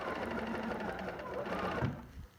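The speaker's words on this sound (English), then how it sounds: "I lift up my foot a little and then I sew along this side of the foot" A sewing machine stitches quilt half-square triangle pieces in a close, steady whirring run of about two seconds, then falls quiet.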